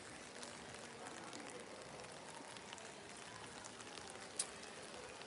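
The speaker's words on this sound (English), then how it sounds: "It's very atmospheric with the rain." Steady rain falls outdoors in Verona, a dense, even patter of drops on surfaces with one brief louder tap near the end, heard alone with no talk.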